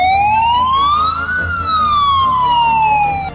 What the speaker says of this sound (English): Heavy duty ambulance.